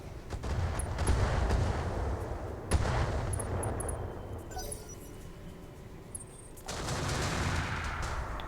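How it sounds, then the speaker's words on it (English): Inferno weapons fired by mechs in the BattleTech game, a dense series of loud crackling blasts and fusillade bursts with a quieter lull in the middle before another barrage resumes. "we bring the Vulture here and we just shoot more Inferno his way."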